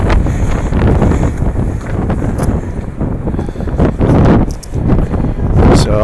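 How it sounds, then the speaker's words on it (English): Strong gusts batter the microphone on a New York City street, producing loud, continuous roaring buffets that swell and dip throughout, with faint city sounds beneath. "God, it's so windy"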